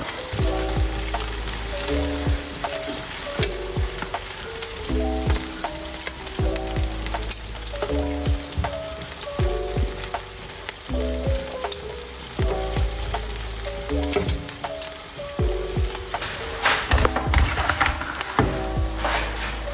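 Chicken wings fry steadily in hot oil in a pan, a dense continuous sizzle and crackle with faint scraping and stirring knocks throughout, close and loud, with no voices.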